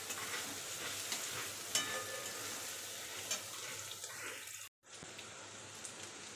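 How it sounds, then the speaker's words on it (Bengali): Potato and onion frying in a pan for chirer polao, a continuous loud sizzle with stirring scrapes, briefly cut off near the end and then resuming. "এটা একটু ভাজতে হবে।"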